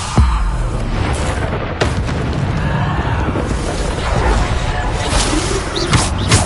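The Bombarda explosion spell in the fantasy action game Hogwarts Legacy: dense, continuous booming and crackling blasts fill the clip. Several sharper impacts stand out from the loud, sustained chaos of combat.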